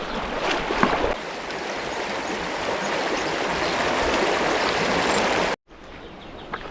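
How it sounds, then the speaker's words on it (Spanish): Rushing water from the source stream of the Guadiaro River and a small cascade, a steady dense roar close by that cuts off abruptly near the end, then continues more faintly. "allí tiene como una cascada"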